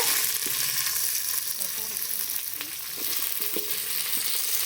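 Onions and curry leaves fry in a pan with a close, steady hiss of hot oil, plus a few light utensil taps and crackles.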